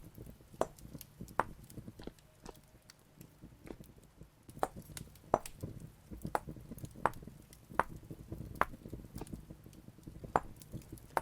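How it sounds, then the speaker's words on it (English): Steady series of sharp mallet taps on a chisel cutting a wooden piece for a chicken coop, roughly one strike every half second, close and moderately loud with no talking. "I kept finding little bits to chisel"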